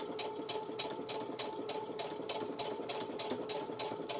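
A sewing machine stitches around the corner of a girl's dress, its needle tapping in a quick, even pulse. The sound is close but fairly soft, with brief changes in pace as the fabric is eased round and no voices.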